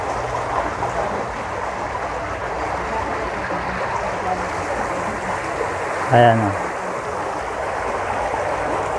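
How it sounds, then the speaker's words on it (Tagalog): Water leaking and dripping into Manila Bay makes a continuous trickling, flowing wash, while a person speaks briefly over it near the middle. "Ayan, may tumutulo dyan."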